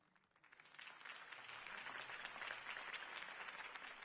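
Crowd applause for a mayoral campaign speech backing Harvey Dent in Gotham, swelling quickly and holding as steady, dense clapping from a large audience.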